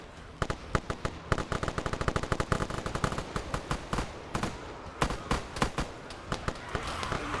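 Gunfire in the zombie shooter World War Z, rapid bursts of sharp shots in quick rhythmic volleys, fairly loud and close, continuing with short pauses across the whole stretch.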